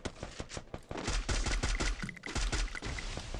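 Rapid bursts of video game gunfire crack in quick succession, loud and close, with sharp repeated shots forming short volleys.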